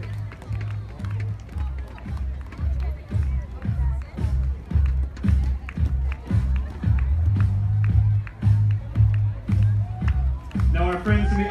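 Outdoor crowd at a Relay for Life event in Guam cheering and clapping as cancer survivors and caregivers walk the first lap, a steady rhythmic wash of applause and voices with louder bursts throughout.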